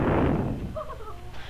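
A single heavy thump of a hand hitting a door, loud and close at the start, then decaying into a short ringing tail and room noise.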